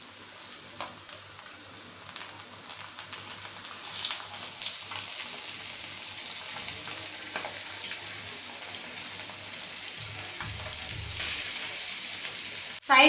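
Pomfret fish frying in hot oil in a pan over a low flame, a steady bright sizzle crackling continuously and growing slightly louder toward the end, with occasional pops and no talking.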